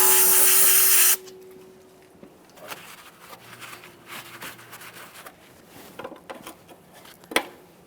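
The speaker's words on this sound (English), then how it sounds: "We'll use some parts cleaner, make sure there's no debris." Parts cleaner sprays from an aerosol can onto a brake line of a 2009-2014 Nissan Maxima in one loud, close hiss about a second long, followed by quiet dripping, handling and tool clinks.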